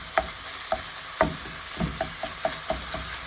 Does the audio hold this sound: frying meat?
yes